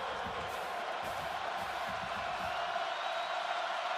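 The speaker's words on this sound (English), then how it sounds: "And here comes the war chant." Florida State fans at a home football game against Florida, a big stadium crowd roaring steadily with a faint rhythmic pulse that could be the war chant, distant and evenly loud throughout.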